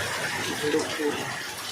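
Rainwater pours down steadily in cold-season rain near a young coconut tree, a continuous broad wash of falling water held close and fairly loud, with faint voices murmuring underneath.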